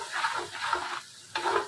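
Masala is stirred into a hot pan for a chicken curry, with three scraping strokes over a soft, continuous sizzle, heard close and with no voices.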